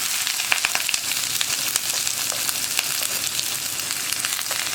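Sliced onions, with garlic, hit hot oil in a pan for a kappa masala curry and fry with a bright, continuous sizzle and scattered crackles and pops, close and fairly loud, with no talking.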